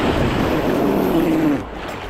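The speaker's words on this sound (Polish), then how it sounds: "O, fala." Ocean waves wash in at a beach with swimmers in the water, a loud close rushing surge laced with wind buffeting that swells and then eases off toward the end.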